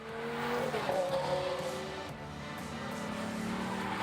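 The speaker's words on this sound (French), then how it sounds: "Les tours en voiture de sport sont de plus en plus populaires." A Mercedes-AMG GT R sports car drives past at a car event, its engine note climbing and holding steady with a brief tire squeal, loud and close throughout.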